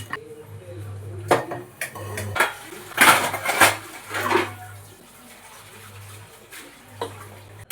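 Pressure cooker set down on a kitchen stove while making mutton sambar, heard as several metallic clanks and knocks of pot against burner among other utensil clatter, over a low steady hum.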